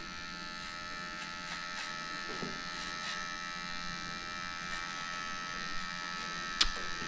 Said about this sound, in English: When I say do her paw pads, I mean shave the hair between the pads.